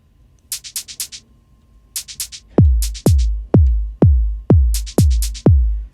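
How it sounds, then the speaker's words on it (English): Minimal house percussion loop: shaker and hi-hat samples ticking in a triplet-feel pattern, crisp and dry, later joined by punchy low kick hits on a steady four-beat pulse, with no talking. "we got these triplet-y kind of shaker hi-hat combinations"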